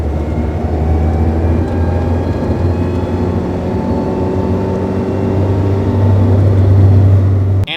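A Mazda Miata's transmission whines steadily in third gear around 2,500 RPM, a sustained high-pitched tone over a loud, even drive drone that swells slightly toward the end, with no talking.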